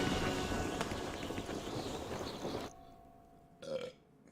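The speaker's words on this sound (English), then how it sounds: "Excuse me for the burp." A loud, long burp rumbles close to the microphone over background noise, followed by a short quieter sound after a brief pause.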